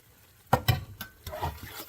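Tomato sauce for homemade lasagna is ladled and stirred in a pan, with a few soft knocks and scrapes clustered near the middle and quieter wet shuffling after.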